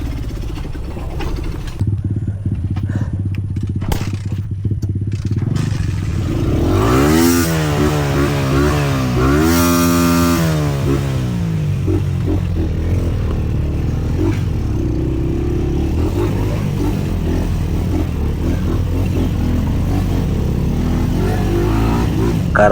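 A motorcycle engine idles and revs nearby, rising and falling in pitch through several throttle bursts, loud and continuous with some rattling clatter.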